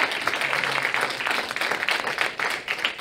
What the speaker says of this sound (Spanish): Este aplauso, naturalmente, es para los cinco.